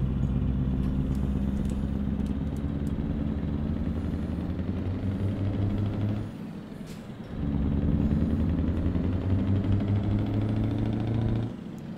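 A Lion truck with a V8 engine in the Grand Utopia driving game rumbles with a loud, steady, deep engine drone that dips briefly midway, as in a gear change, before surging back.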